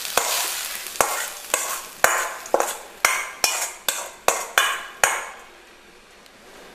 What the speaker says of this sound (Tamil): இந்த தாளித்து வதக்கினதையெல்லாம் எல்லாம் போட்டு நம்ம இதில் போட்டு நல்லா மிக்ஸ் பண்ணிடுறோம்